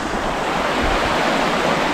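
Water gushes steadily from a constructed rock spring spouter along a park trail, a continuous loud broadband splashing rush that fills the whole stretch with no voices.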